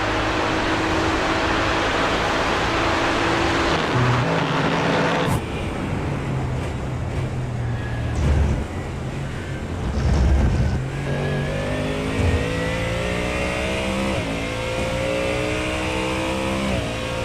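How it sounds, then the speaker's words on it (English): A Ford Mustang GT3 race car roars loud and close on the Le Mans circuit in iRacing. The engine pitch rises and falls through gear changes and rumbles under braking, with no voices over it. "Sound of Kevin's Mustang is quite possibly one of the best in iRacing."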